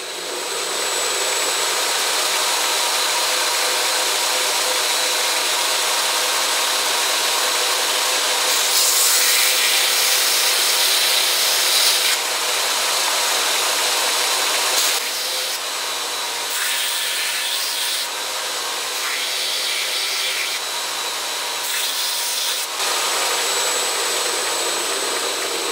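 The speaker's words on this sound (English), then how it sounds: "I've just put a 36 grit belt on. We'll just rough some of this out." A belt grinder fitted with a coarse 36 grit belt roughs out the blade of a wooden chip carving knife, giving a loud, steady abrasive whine with shifting bursts of grinding as pressure changes, sustained throughout with no talk.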